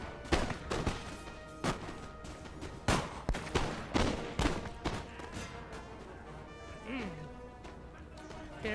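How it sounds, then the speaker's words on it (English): Line infantry musket volleys in Napoleon: Total War, a series of sharp, scattered cracks and thuds from the battlefield, ringing out irregularly at moderate volume under a voice talking. "have our line infantry open fire on them"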